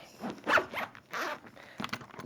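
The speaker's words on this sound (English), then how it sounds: "Zip them up like this." A suitcase zipper is pulled shut in several quick rasping strokes, close and clear, with short pauses between pulls.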